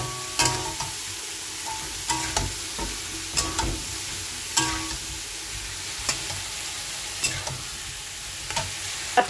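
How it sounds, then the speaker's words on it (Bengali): A spice paste with coriander leaves sautés in a pan, low sizzling under repeated sharp scrapes and stirs of a spoon, quiet and close with no voices. "আর এখানে আমি কষিয়ে নেব মশলাটা।"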